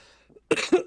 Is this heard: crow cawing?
no